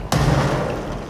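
A grenade goes off in the video game Control as one heavy, thudding blast followed by a brief rumbling tail.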